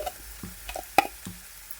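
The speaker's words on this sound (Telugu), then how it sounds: "ఇప్పుడు ఇదంతా ఈ నూనెలో కలిసేలాగా కలుపుకోవాలి" Coconut chili powder is stirred into hot oil with curry leaves, giving soft sizzling under a few sharp spoon scrapes and taps against the pan.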